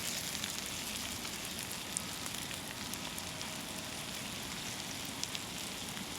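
Skin-on meat cooks over a turned-down fire inside an abandoned building, giving a steady, dense sizzle and crackle with faint pops that runs evenly throughout, with no talking.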